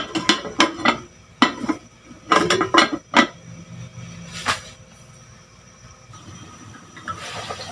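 A metal lid clatters onto a cooking pot of meat porridge, several sharp clanks and rattles in quick bursts, then a low simmering hiss and bubbling continues underneath.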